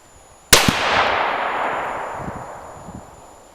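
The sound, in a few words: rifle shots, .22 Creedmoor with 85 gr Barnes bullets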